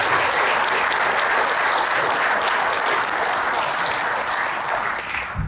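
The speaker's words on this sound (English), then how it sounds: "Let's give Norbert a big round of applause." Sustained audience applause fills a hall at a farm equipment Hall of Fame induction, dense and steady throughout before thinning slightly at the very end.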